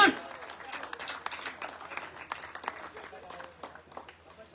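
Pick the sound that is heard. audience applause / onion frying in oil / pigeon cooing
audience applause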